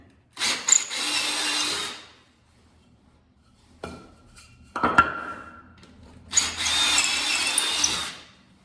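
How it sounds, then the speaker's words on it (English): Power drill with a wood bit boring into a 2x4 in a concrete basement, two loud sustained drilling bursts at either end with a few knocks and clatters in between. "I'm going to continue drilling over the edge, because this wood bit doesn't need to go into concrete."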